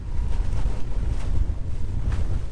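A sailboat in rough waves and strong wind near Phuket and the Phi Phi Islands, a constant loud rushing roar of wind buffeting the microphone over churning water, no voices.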